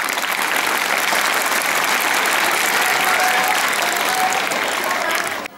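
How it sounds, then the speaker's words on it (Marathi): Loud, sustained applause from an audience fills a school gathering, a dense steady clapping that holds for about five seconds before cutting off. "जोरदार टाळ्या।"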